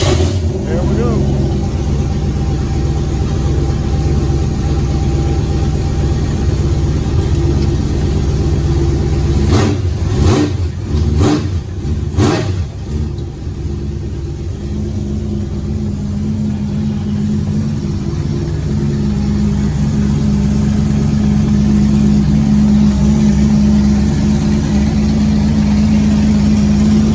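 A Chevrolet Nova engine runs loud and close after start-up, holding a steady deep rumble with a brief cluster of sharper bursts about midway, and voices are heard over it.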